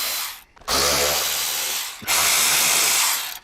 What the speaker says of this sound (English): The first thing we need to do is remove these three bolts right here so we can get to the two banjo bolts back here.